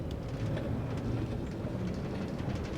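A minecart train pulling into a cart holding area at a base in the Minecraft Forgecraft modpack, heard as a steady, quiet low rumble of rolling noise with no talking.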